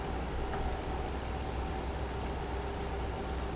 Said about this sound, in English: The raining can't be that bad.